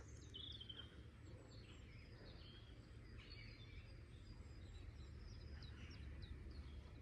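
Faint, repeated high chirps of chiffchaff song scattered through a steady low background rumble in Coombe Bottom, Ventnor, Isle of Wight, the song distant and thin.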